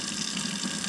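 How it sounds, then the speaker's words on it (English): Hot tap water runs steadily from a faucet into a sink, a continuous even rush with no pauses, close by. "run your tap water all the way hot"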